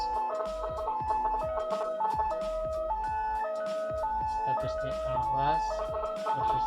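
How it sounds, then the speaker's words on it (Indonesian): A homemade landslide early-warning alarm at its level-3 emergency setting, meant to resemble an ambulance siren, plays a continuous electronic melody of stepped, alternating tones over steady rhythmic clicks, loud and close throughout. "suara sirine ambulan."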